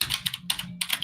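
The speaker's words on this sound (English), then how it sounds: "You guys really type softly, huh?" Quick keystrokes clatter on a computer keyboard, a fast close run of crisp clicks in three short bursts with brief pauses, no voices.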